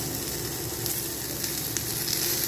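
Chopped onion sizzling in hot oil with freshly made spiced masala in a pan, a continuous close crackling hiss with small pops and occasional stirring scrapes.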